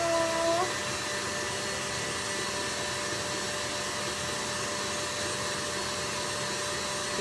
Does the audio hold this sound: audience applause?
no